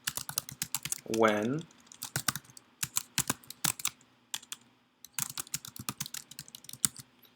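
Sharp, quick keystrokes on a computer keyboard patter in irregular bursts with short pauses, close and fairly quiet, with a brief spoken word partway through.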